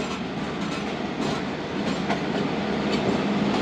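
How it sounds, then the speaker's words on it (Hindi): Zakariya Express pulling out of Kanpur railway station, a steady rolling rumble of railcars with faint wheel clatter, continuous and fairly close, with no voices. "11:20 पर दोस्तों ट्रेन रवाना हो रही है कानपुर रेलवे स्टेशन से अपने 5 मिनट क़याम के बाद"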